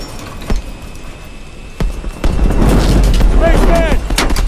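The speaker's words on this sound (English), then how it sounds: "I'm seeing heavy enemy fire at our drop pad!" Heavy enemy gunfire in the video game Call of Duty: Advanced Warfare cracks out in sharp repeated shots and rumbling booms, growing denser and louder over a constant low roar.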